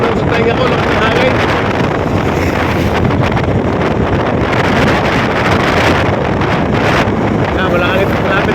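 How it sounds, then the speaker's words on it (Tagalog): Strong wind roars steadily across the microphone aboard a boat on the open sea, a loud, unbroken buffeting rush, with engine and water noise blended underneath. "Naramdam sa tainga ko lang ng hangin."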